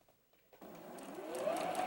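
A sewing machine stitches through fabric, its motor winding up after a quiet start. The whir rises in pitch and grows louder over about a second, close by but faint overall.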